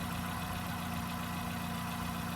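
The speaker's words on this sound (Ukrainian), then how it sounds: "Прогріваємо двигун." A Dacia Solenza car engine idles steadily while warming up, with a low, even hum and faint mechanical rattle, close and continuous with no variation.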